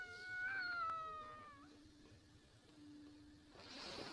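A cat meows indoors, a clear drawn-out call with a falling pitch, followed by softer, thinner mewing and a faint closing cry, all close by with no talking over it.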